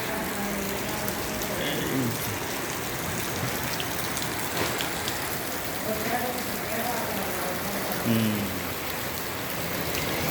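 Steady rain patters on a surface, a dense continuous hiss with occasional faint voices in the background.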